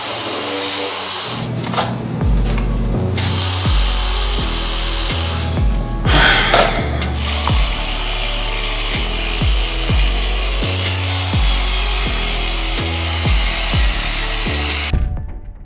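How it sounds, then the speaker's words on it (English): A power sander whirs continuously against a painted surface, its steady grinding drone broken by rhythmic scraping strokes, close and loud throughout. "I'm just gonna start sanding."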